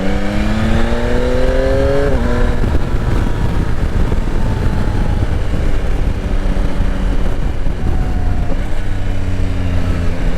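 A 2022 Yamaha Tracer 9 GT motorcycle engine revs hard through rising gears, each shift dropping the pitch, with loud wind rush and steady riding noise close to the rider.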